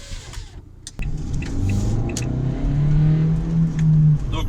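A Renault Kangoo RS engine revs and drones loudly at close range in its soft-ground driving mode, its low rumble rising and holding steady after a sharp start, with faint clicks above.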